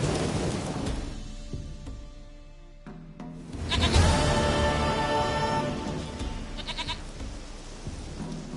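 A goat in the Witcher 3 game bleats over a rumbling thunderstorm with steady rain, the wavering cries rising midway and repeating near the end above the constant storm wash.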